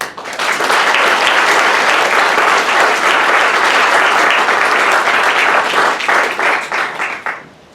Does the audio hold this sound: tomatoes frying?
no